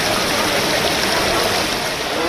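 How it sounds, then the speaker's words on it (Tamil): Flood water rushing steadily through a residential area on the outskirts of Hyderabad, a loud continuous broadband roar of flowing water with no clear pauses. "ஹைதராபாத் புறநகர் பகுதியில் குடியிருப்புக்குள் தண்ணீர் புகுந்து வெள்ளக்காடாக காட்சியளிக்கிறது"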